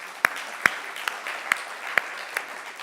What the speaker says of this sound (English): So give a round of applause to the incubator team.